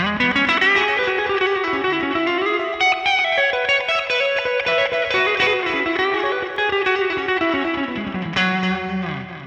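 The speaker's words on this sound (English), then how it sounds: "here's the neck position" Clean electric guitar tone on the neck pickup through a Line 6 Helix US Double Nrm amp model: warm, sustained notes and chords ringing together, played steadily and close at an even level.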